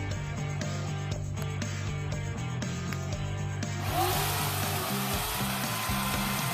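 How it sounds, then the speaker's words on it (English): A Chicago Electric 14-inch electric chainsaw runs with a droning motor hum, its pitch shifting in steps, then turns into a louder, broader whirring buzz partway through that carries on steadily to the end. "today I have here is a Chicago Electric Power Tools 14-inch electric chainsaw"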